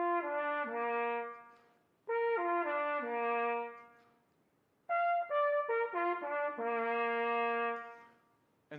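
A trumpet plays a descending arpeggio down into its lower register, three separate phrases of clear stepping notes with short pauses between them, close and unaccompanied.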